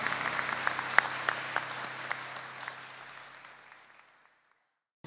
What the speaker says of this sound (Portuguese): Uma salva de palmas às famílias.